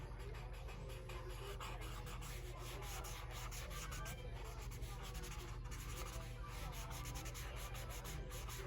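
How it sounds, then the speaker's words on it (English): A Q-tip is rubbed across paper to color and shade, making a continuous soft, close-up scratchy swishing with no pauses and no talking. "Never thought you'd be coloring with a Q-tip, huh?"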